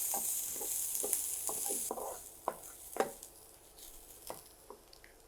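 Fourteen or fifteen nuts fry in oil in a pan under a soft, steady sizzle, broken by a series of close, sharp spatula stirs and scrapes at an uneven pace. No one speaks.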